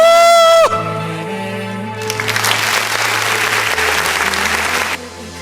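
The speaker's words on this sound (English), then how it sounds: "A big round of applause, ladies and gentlemen" Audience applause at a Miss Bharat USA pageant bursts in after a sustained musical tone, a dense wash of clapping and cheering lasting a few seconds before cutting off.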